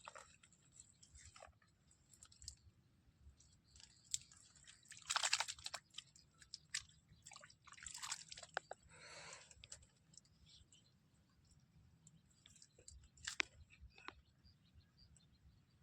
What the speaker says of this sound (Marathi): तुम्हाला आवाज येत असेल की हा आता आपल्या आकड्याला बाईट करतो म्हणजे चावतो.